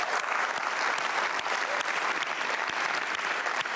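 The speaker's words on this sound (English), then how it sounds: "We're going to start it off by just giving a great big round of applause" Audience at a conference breaks into sustained applause, dense steady clapping from a crowd that holds evenly throughout without any talk over it.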